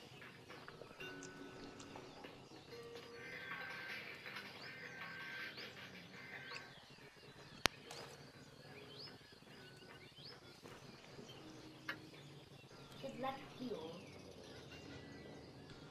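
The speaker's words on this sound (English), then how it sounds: "There's a bird up somewhere." A bird calls in the Ghost Recon Breakpoint video game, with faint, scattered chirps over a busy outdoor game ambience and occasional clicks.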